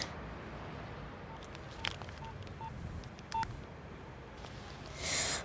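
A few short telephone keypad tones beep one by one under a constant hiss and crackle, each a brief isolated pip, followed by a louder burst of noise at the end.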